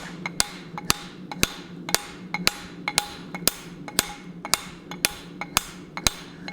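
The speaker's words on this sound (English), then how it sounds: "So that's why I'm upsetting the piece like you see here." A hammer strikes hot steel on an anvil to upset it during forging of a hot cut hardy, giving sharp ringing blows at a steady rhythm, about two per second, close and loud over a low hum.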